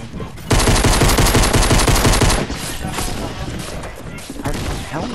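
Rapid automatic gunfire in Fortnite, a loud dense burst of fast shots for about two seconds followed by scattered quieter shots and impacts.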